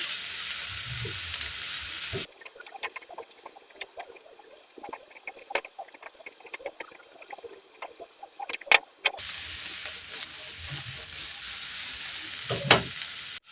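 Onion and red bell pepper fry in a pan for vegetable noodles, a close hissing sizzle with light crackles and scattered clicks of a utensil, louder in the middle stretch and quieter at the start and end, no talking.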